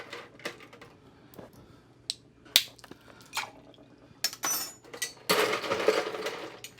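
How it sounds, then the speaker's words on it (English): Ice cracked for a martini, a series of sharp, close cracks and clicks spaced irregularly, ending in a denser rattling crunch, with no voices. "I'm going to crack a piece of ice"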